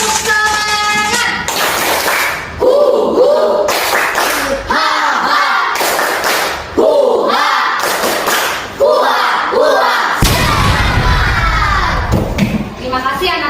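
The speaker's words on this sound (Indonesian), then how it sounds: "Tepuk tangan." Schoolchildren in an Indonesian classroom clap their hands in sharp rhythmic bursts, loud and close, with an adult voice and children's chatter between the rounds.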